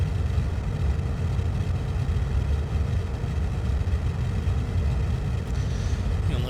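Spacecraft engines in a space flight video game run at full thrust, a steady loud low rumble that continues unbroken throughout, with no talking.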